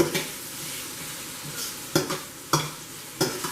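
Onions sautéing in a pan for a Filipino crab dish, a soft continuous sizzle broken by several sharp metallic clacks and scrapes of a utensil stirring against the pan.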